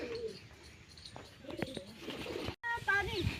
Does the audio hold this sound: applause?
no